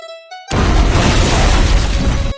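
A sudden loud burst of explosive noise after a brief tonal whine, a cartoon firecracker exploding, sustaining as a dense crackling roar for about two seconds, close and very loud.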